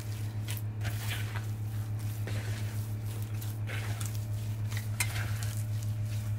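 Bread dough made with wheat bran is stirred in a bowl, giving a steady soft scraping and squishing under a constant low hum, close and fairly quiet.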